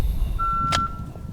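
A shot timer app beeps once through truck speakers about 10 feet away, a steady electronic tone lasting roughly half a second, with a louder broadband click partway through and low outdoor rumble underneath.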